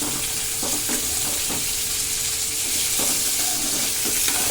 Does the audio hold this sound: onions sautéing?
yes